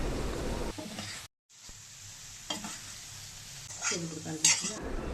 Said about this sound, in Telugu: ఆ కారం అంతా బాగా కలిసేటట్టు మన కర్రీకి బాగా కలుపుకోవాలి